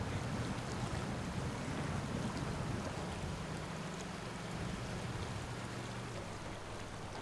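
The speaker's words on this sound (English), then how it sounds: "that rain seems to come every time we have to do something a little bit more tricky than normal" Steady rainfall in the off-road driving game SnowRunner, a dense, even hiss with a low rumble underneath and no talk.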